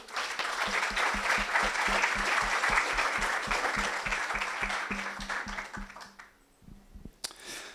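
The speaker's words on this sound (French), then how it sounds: "je pense qu'on peut les applaudir aussi" Audience applause for the technical crew at the Polycloud 2026 opening event, a full crowd clapping with a rhythmic thumping beat underneath, fading out near the end with a few scattered sounds.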